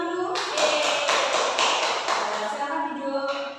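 A classroom of young children in an Islamic studies lesson claps together in a burst of dense, close-range hand clapping lasting several seconds, loud and steady before trailing off.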